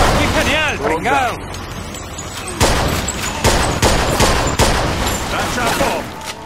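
Rapid bursts of gunfire in the Mafia 2 video game, loud sharp volleys repeating in quick succession, with voices shouting and a pitched, wavering sound early on before the shooting intensifies.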